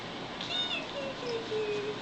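Siberian kittens give a few small high meows, one rising squeak followed by thinner falling cries, soft and close over a quiet room background.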